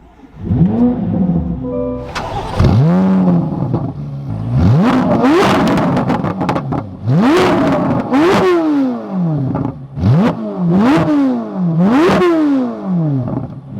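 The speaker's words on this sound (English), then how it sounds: "Let's fire this back up though and take a listen to the Z06." A 2024 Chevrolet Corvette C8 Z06 3LZ fires up and revs hard, its engine barking through a series of about seven sharp, loud rising blips that fall back between each, close and alone with no talk.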